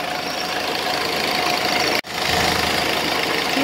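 A Cummins 4BT diesel engine in a truck with an Allison 1000 transmission idling steadily with a rough, knocking rumble, close and loud, briefly cutting out for an instant midway.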